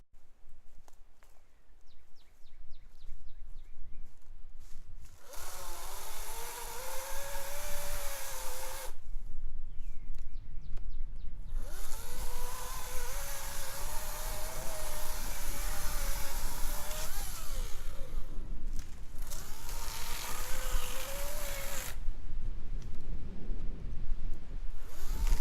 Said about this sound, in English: watching me cut up this tree with the Ego 14-inch chainsaw